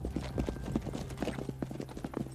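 Horse hooves clip-clop in a quick, uneven rhythm nearby, a steady run of moderate hoof strikes with no talk over them.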